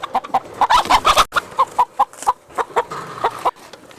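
Several chickens cluck in a quick, close series of short calls in a Cuban farmyard, with a rooster crowing among them; no talk is heard.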